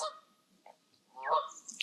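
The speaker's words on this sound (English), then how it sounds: "That goose is not still or quiet." A goose honks in a marsh: a brief call at the start, a quiet gap, then a louder run of honks near the end, heard alone.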